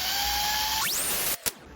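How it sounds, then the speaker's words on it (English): A power drill whirs steadily, then revs up sharply as it bores through a kitchen cabinet door for new handles, stops abruptly, and a short click or knock follows. "Then I will drill through."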